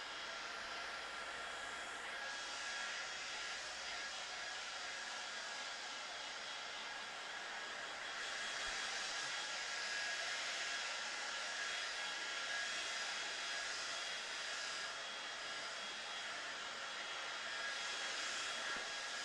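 A hair dryer blowing steadily on a piece of artwork, a continuous loud breathy whoosh with slight shifts in intensity across its length and no speech.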